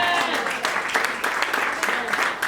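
A church congregation applauds during a sermon, a dense wash of clapping with scattered sharper claps, steady and moderately loud throughout.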